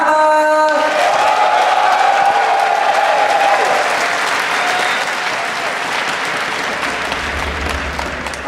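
Crowd at a StarCraft 2 tournament grand final at DreamHack Winter 2010 cheering and applauding loudly, dense sustained clapping and whooping from a large audience that slowly eases off, following an announcer's voice at the start.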